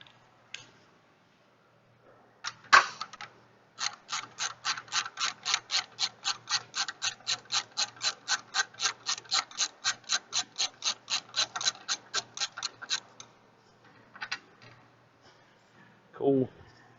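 A ratchet wrench works loose an 18 mm bolt under a car, a close, rapid run of evenly spaced metallic clicks lasting several seconds, with brief clanks before and after and faint talk nearby.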